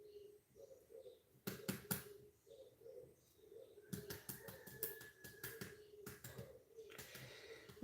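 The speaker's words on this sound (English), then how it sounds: "I'm just lightly tapping the egg" Sharp, crisp taps of an egg on a hard worktop as it is cracked, in quick clusters, close up, while birds coo softly in the background.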